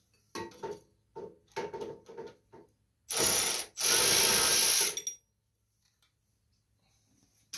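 A ratchet wrench loosens the idler pulley bolt on a Toro commercial zero turn mower deck. It gives several short bursts of clicking, then two louder, longer ratcheting runs up close, before falling quiet.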